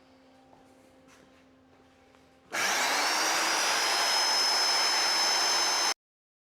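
A homemade metal bandsaw cuts through trailer metal, its loud, steady grinding whine starting abruptly, holding for about three and a half seconds, then stopping dead after a quieter stretch of shop background.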